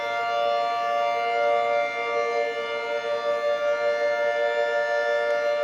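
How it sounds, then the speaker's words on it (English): Outdoor civil defense warning sirens sound during a severe thunderstorm warning, a steady sustained wail heard alone, holding at a constant, fairly loud level at some distance. "Sirens just went off again."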